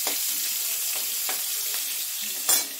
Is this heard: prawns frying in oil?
yes